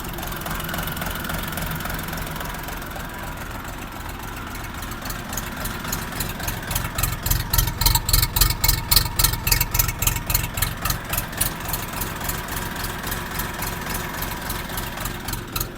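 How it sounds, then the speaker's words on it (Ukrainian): A KM385 diesel engine on a Xingtai 244 tractor idles steadily, then settles into a louder, rhythmic knocking chug in the second half, close by with no voices. "мій голос замовкає, а ви слухаєте двигун"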